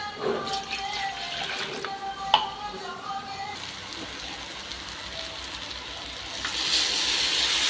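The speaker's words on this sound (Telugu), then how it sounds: "చింతపండు రసం వేసుకున్న తర్వాత ఒక గ్లాస్ వాటర్ కూడా వేసుకోవాలి" Tamarind juice poured into an eggplant and silver fish curry makes a watery splash that swells toward the end, following a stretch of talk.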